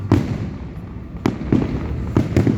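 Fireworks go off outdoors in a scattered series of about five sharp booming pops, some in quick pairs, with a low rumble between bursts and no talking.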